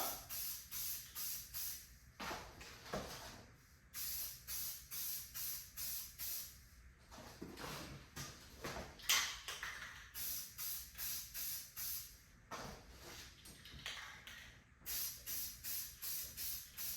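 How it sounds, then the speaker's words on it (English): Repeated short hissing bursts of an aerosol spray-paint can coating bolts for a Chevy rear bumper, in quick rhythmic pulses, with a few longer sprays and pauses between runs. "we're gonna go ahead and spray these bolts right now so that they can be in the works and be dry"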